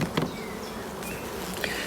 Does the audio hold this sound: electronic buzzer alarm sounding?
no